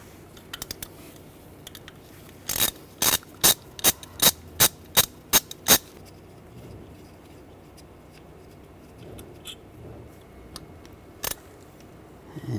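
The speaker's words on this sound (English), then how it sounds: "Now we're going to take the bolts out using a T30 socket." A T30 socket ratchet backs out bolts on a Mercedes-Benz E350 V6 engine, a run of about nine sharp, evenly spaced clicks close up, then a few scattered clicks later over quiet workshop background.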